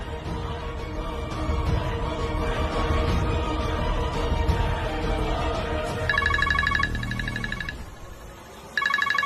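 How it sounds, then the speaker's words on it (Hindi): A phone rings with a repeating electronic trill in two bursts, rising out of a busy background rumble that fades between rings. "ऐसा लगा किसी का फोन बजा"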